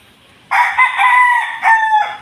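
A young straight-comb gamefowl stag gives one loud, close crow lasting under two seconds, rising sharply at the start and wavering through a couple of breaks before cutting off.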